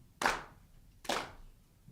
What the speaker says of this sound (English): let's clap on the downbeat. Everybody clap.